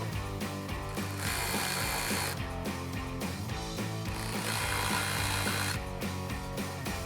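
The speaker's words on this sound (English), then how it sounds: "Now we'll tighten these down with our T15 Torx socket." A ratchet fitted with a T15 Torx socket tightens the screws of no-drill mud flaps on a 2020–2026 Silverado 2500, a loud, close run of dense mechanical clicking and whirring in bursts with brief pauses and no talking.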